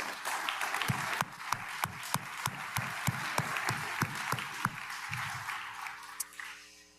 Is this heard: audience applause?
yes